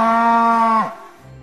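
A cow gives one loud, close moo, a steady drawn-out low call lasting under a second that drops off at the end, followed by brief quiet.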